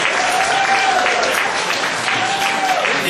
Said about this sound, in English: We all have another round of applause for Scott for 2012.